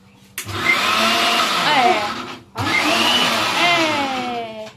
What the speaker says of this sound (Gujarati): તમને મિક્સર ચલાવતા નથી આવડતું